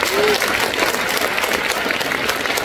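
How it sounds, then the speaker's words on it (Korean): A church congregation at a joint Liberation Day worship rally in Yangcheon-gu applauds, dense steady clapping filling the hall for a short stretch with a voice briefly heard over it. "박수를 올려드립니다."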